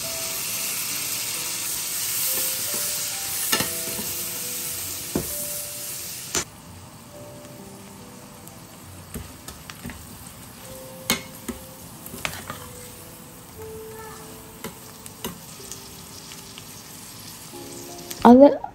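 Soft scraping and tapping of a utensil in a pan over a steady low sizzle, with occasional clinks; faint and close.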